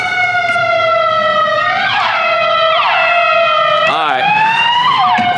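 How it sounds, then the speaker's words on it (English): Several emergency vehicle sirens wail loudly and overlap, sweeping up and down in pitch on a street near an elementary school in Alameda, California, with steady traffic noise underneath. "It's too many sirens for me."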